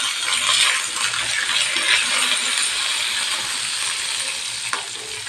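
Fennel, cumin, cardamom, cinnamon and cloves fry in hot oil, a bright, crackling hiss with small popping ticks, steady and close, with no talking.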